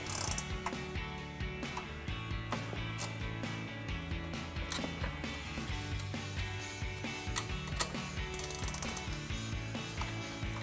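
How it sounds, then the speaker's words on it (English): A 14 mm ratcheting wrench works loose the lift-kit nuts on a Toyota Tundra, giving steady rapid ratchet-pawl clicking close by with a few sharper metallic ticks, continuous throughout with no talking. "We're gonna grab a 14 millimeter ratcheting wrench and we're gonna remove these four nuts."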